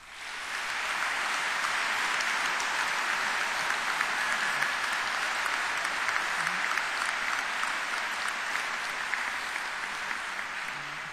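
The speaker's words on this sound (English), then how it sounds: "please give a massive round of applause" Graduation ceremony crowd at Edinburgh Napier University claps in a sustained, even roar of applause that fills the hall steadily from start to finish, with no talk over it.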